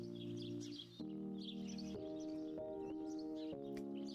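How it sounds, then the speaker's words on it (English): Looping ambient bird chirps from a Godot-made video game play steadily over a droning musical backdrop, bright tweets scattered across the full four seconds at a moderate, even level. "you hear birds chirping 24/7"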